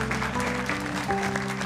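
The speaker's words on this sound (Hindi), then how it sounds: "तालियां।" Quiet applause rises at a scene in a Korean drama, soft scattered clapping blended with background music and faint voices.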